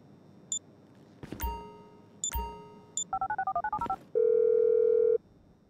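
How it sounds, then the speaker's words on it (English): A phone being dialled in the video game GTA 5: a few beeps, then a quick run of DTMF key tones and a steady tone of about a second, clear and close, with no talking. "Phone it in! I'm making the call."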